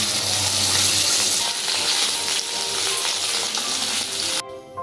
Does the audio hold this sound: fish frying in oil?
yes